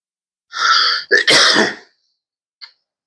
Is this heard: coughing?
yes